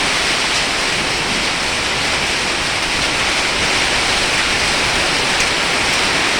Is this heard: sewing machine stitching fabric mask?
no